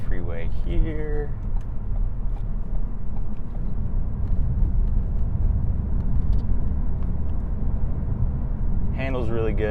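A 2016 Ford Focus ST in sixth gear merges onto a freeway, its steady low engine and road rumble filling the cabin throughout, with a voice speaking briefly at the start and end.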